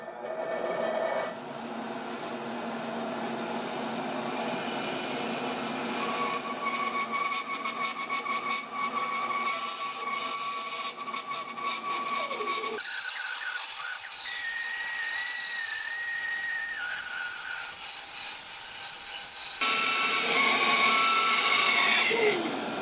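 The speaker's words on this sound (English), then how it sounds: "at the bandsaw, like I said, and I'm going to go ahead and freehand cut this" A bandsaw with a 3/8-inch six-tooth blade freehand cuts boiled, bent cherry wood through the end grain, a steady close mechanical whine and buzz that shifts in pitch as the cut progresses, with no talking.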